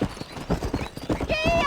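Horse hooves clatter rapidly and close in Red Dead Redemption, followed at the end by a short whinny, with a voice speaking briefly over them.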